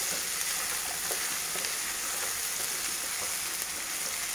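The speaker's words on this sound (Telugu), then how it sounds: "ఇప్పటికీ మనకి సగం ఫ్రై అయిపోయి ఉంటుంది ఆలు. ఇంకా మిగతా అయ్యేలోపు ఈ ఆనియన్ వేగిపోతుంది." Potatoes and onion frying in a pan give a steady, even sizzle with faint crackles throughout. Close and continuous, with no talk.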